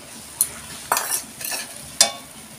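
A catla fish head dish cooks in a pan just after garam masala goes in. A low steady sizzle is broken by four distinct scraping stirs of a spatula, the loudest near the end.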